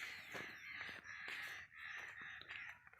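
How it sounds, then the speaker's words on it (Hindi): Several crows perched on a pole beside open farm fields caw repeatedly in harsh, overlapping calls, fairly close and loud against a faint rural background. "और यहाँ खंबे पे कौवे भी बैठे हुए हैं बहुत।"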